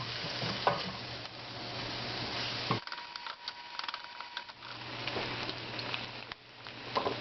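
Ground meat browning in a pan while it is stirred, giving a close sizzle broken by scraping and clicking utensil strokes and a brief drop partway through.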